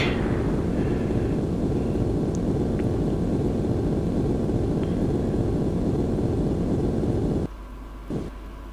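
A Eurofighter EF2000 jet in a flight video game roars with a loud, steady, dense engine rumble for about seven seconds before cutting abruptly to a much quieter hum, with no talking.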